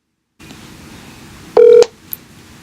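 A phone dials out to return a call, giving one loud, steady electronic tone lasting about a quarter second over a faint hiss, then a small click.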